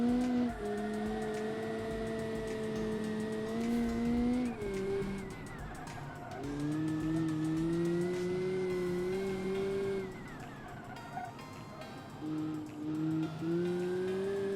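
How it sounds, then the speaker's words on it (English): In the Automation game, a stock car fitted with a sequential gearbox and heavy boost runs on track. The engine drones loudly and its pitch climbs through the gears, dropping with each shift, while a loud gearbox whine runs over it throughout. "Sequential gearbox is really loud."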